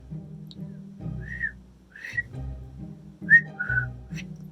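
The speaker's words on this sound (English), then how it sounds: "Can you whistle?" Breathy, airy whistling attempts in short bursts, several faint wavering tones that break off, with low voiced hums and breaths between them, close by.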